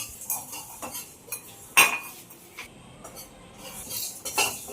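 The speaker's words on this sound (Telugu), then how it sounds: "మెంతులను ఆవాలు కూడా వేసేసుకొని జీలకర్ర అవి కూడా లైట్గా ఫ్రై చేసేసుకోవాలి" Coriander seeds, fenugreek, mustard seeds and cumin dry-roasting in a pan, stirred with a metal spoon that scrapes and clinks irregularly, one sharp louder knock early on, with faint rattling of seeds in between.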